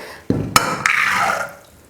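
Water pours into a pressure cooker over soaked black chickpeas, starting with a sharp splash followed by a steady, close rush of liquid that fades after about a second.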